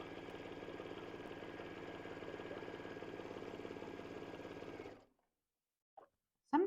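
Sewing machine chain stitching along the open edges of fabric apron tie bands, a steady rapid mechanical hum running for about five seconds before stopping, followed by a couple of brief handling clicks.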